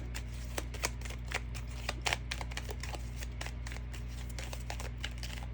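Making Magic tarot cards are shuffled in a quick riffle, a run of crisp, papery flicks and soft slaps repeating at an irregular pace, close and fairly quiet against a steady low hum.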